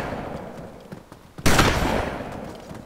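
Gunfire in the video game DayZ, a sharp loud burst of shots followed by a decaying tail over low background noise.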